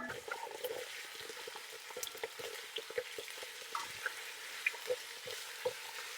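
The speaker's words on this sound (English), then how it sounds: "We start with the beef. And we're just going to be lightly browning them" Beef steak pieces lightly browning in a pan for chilli con carne make a soft, continuous sizzle with small pops and crackles, fairly quiet and close, with no talk.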